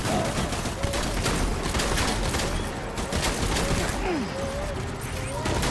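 Rapid, steady gunfire from a shotgun in the video game Death Stranding fills the clip with continuous loud blasts, while a voice talks over the shooting.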